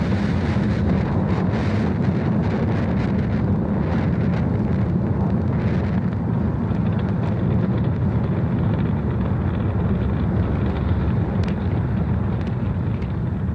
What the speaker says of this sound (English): We are 30 seconds into flight under the power of 5 million pounds of thrust.